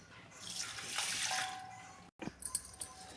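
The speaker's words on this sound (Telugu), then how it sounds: "ఈ రైస్ని కడిగేసి ఒక హాఫ్ అన్ అవర్ నానబెట్టుకోవాలి" Basmati rice gets washed for biryani. Water swishes and runs in a vessel, a soft churning rush that builds and then ends abruptly, followed by a few close splashes and drips.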